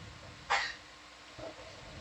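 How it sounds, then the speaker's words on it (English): A single short, sharp burst of breath like a sneeze, followed about a second later by a fainter second one, against a quiet background. "Two sneezes."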